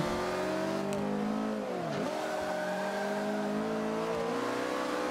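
Race car in Forza Motorsport 5 accelerates hard, its engine note climbing steadily, dipping briefly at a gear change and then rising again, loud and continuous throughout.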